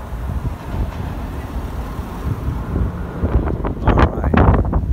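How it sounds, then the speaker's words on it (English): Strong outdoor wind blowing steadily against the microphone, a loud continuous rumbling roar that swells into heavier gusty buffeting near the end. "very recently it's been very windy"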